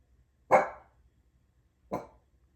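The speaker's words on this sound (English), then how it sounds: "What are you barking at?" A pet dog barks twice indoors, two short sharp woofs about a second and a half apart, fairly close, with quiet between.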